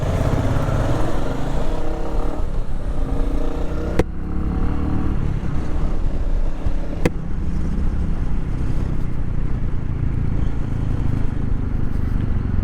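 A Royal Enfield Meteor motorcycle being ridden on the road to a service shop, with steady engine drone and wind rumble throughout, close and loud, plus two sharp clicks along the way.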